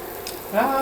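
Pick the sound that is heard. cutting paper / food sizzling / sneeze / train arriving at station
food sizzling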